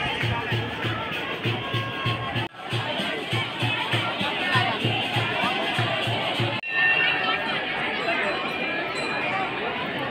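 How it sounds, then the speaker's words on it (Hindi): A large crowd at the Kali Mata temple in Gwalior, a steady babble of many voices chattering close around, with a few brief cuts in the sound. "आज मंदिर में भीड़ बहुत ज़्यादा है"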